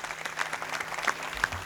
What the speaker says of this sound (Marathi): या बाळगोपाळांसाठी एकदा जोरात टाळी वाजवूयात आपण